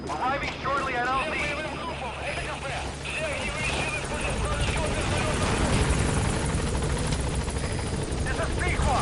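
Helicopter approaching a landing zone in the video game Metal Gear Solid V, a steady loud rotor and engine roar that builds slightly over time, with a radio voice talking over it.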